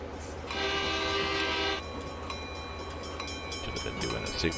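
Train horn blaring in Train Simulator 2020 on a New York–New Haven night run to Canaan, one sustained loud chord-like blast about a second long over the rumble of the moving train.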